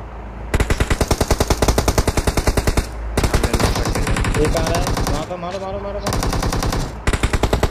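Rapid machine gun fire in a shooter video game, several long sustained bursts of evenly spaced loud shots separated by short pauses, with voices talking over part of the firing.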